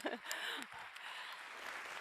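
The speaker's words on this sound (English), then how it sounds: "we can clap them anyways" Lecture-hall audience at the 2019 Nobel economics prize lecture clapping for NGO and government partners: a soft, steady wash of applause, fairly distant and quiet, with a brief voice near the start.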